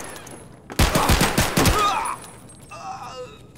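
Gunfire in Escape from Tarkov: a rapid burst of about six loud, close shots in quick succession, followed by a quieter tail with faint sounds afterward.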